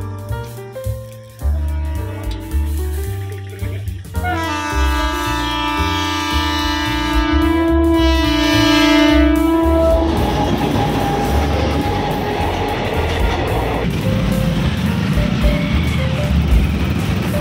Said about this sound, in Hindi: यहाँ पे फिर से रेलवे क्रॉसिंग